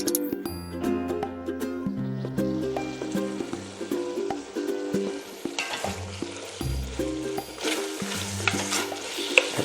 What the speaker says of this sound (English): All we're doing is browning the meat here.